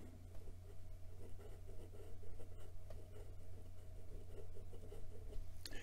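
A fountain pen with a Schmidt nib scratches lightly across paper, a quiet, close, continuous writing sound with faint strokes over a low background hum.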